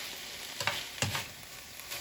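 Diced chicken frying in a hot pan, a soft steady sizzle with two sharper clatters of stirring near the start, faint and close, with no voices.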